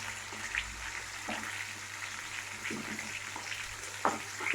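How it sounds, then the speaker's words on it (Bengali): Food fries gently in a pan with salt added, a soft steady sizzle broken by occasional pops and crackles, faint and close. "হালকা করে ভেজে নেব"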